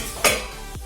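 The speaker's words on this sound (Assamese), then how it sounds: "এতিয়া মই ইয়াত অলপ লৰাই লৈছোঁ" Potatoes stirred in a pan on a gas stove, a short metallic scrape and clink of the utensil over a low sizzle, close and brief.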